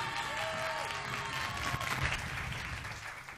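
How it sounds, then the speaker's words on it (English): Studio audience at a 1992 school quiz show semi-final applauding, a dense, steady wash of clapping from a crowd that fades slightly at the end, with faint talk underneath. "Give them a big round of applause"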